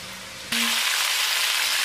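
Meat browns in a pan, a soft hiss that jumps to a loud, dense sizzle after a moment and holds steady.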